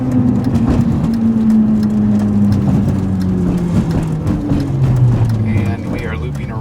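Inside a 1998 BMW Z3M Coupe, the engine drones loud and close under hard acceleration, its tone sliding through the pull, with people talking over it.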